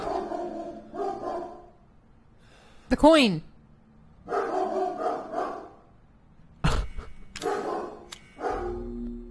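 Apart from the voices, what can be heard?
dog barking loudly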